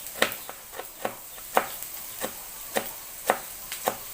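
A knife slices a large red chili diagonally on a cutting board, producing a steady run of about a dozen crisp, close chops at an even rhythm, with no voices.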